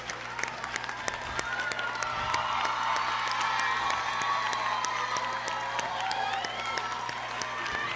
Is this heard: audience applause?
yes